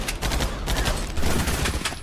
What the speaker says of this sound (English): I normally hate burst weapons.